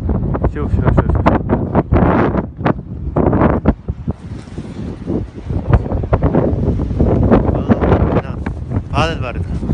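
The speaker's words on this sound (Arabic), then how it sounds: "الرياح وهذا." Strong, gusty winter wind in Canada at about -16°C buffets the microphone with rough, loud roaring bursts that rise and fall throughout.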